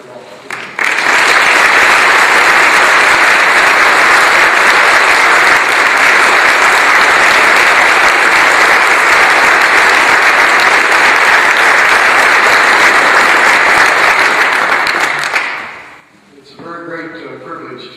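An audience welcomes theologian Dr. Walter Brueggemann at a lecture event with loud, sustained applause. The dense clapping holds steady for about fifteen seconds, then fades and breaks off.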